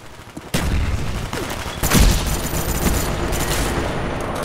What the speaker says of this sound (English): Oh, that flashbang.